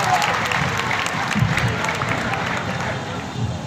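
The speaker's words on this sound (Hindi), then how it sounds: "कवि सम्मेलन के लिए श्रोताओं की जोरदार ताली" Audience applause at a Hindi comedy poetry gathering (hasya kavi sammelan), a dense, steady roar of many hands clapping with crowd murmur mixed in, holding at an even, fairly loud level throughout.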